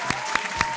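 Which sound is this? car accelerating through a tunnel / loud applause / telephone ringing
loud applause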